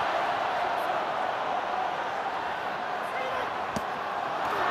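A stadium crowd at a Wales v England rugby match roars and sings, a dense, steady wall of voices with a single sharp thud partway through, loud and continuous.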